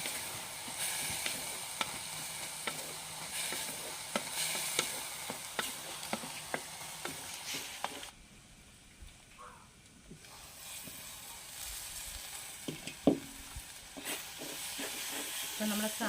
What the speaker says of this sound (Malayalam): അതും കൂടെ അങ്ങോട്ട് ഇട്ട് കൊടുക്കുക നന്നായിട്ടൊന്ന് ഇളക്കി കൊടുക്കുക